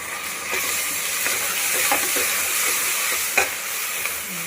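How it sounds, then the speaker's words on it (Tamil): Ginger garlic paste being stirred into frying onions in a pan for chicken pulao, a steady close sizzle with soft scraping of the spoon running throughout, with no voices. "இப்போ இஞ்சி பூண்டு பேஸ்ட் ஆட் பண்ணிடலாம்."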